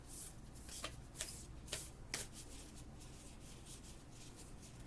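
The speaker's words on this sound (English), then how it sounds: "These are very difficult to shuffle because they are heart-shaped." Quiet, intermittent shuffling of heart-shaped tarot cards, with soft riffling bursts and rustles spaced a second or so apart at close range.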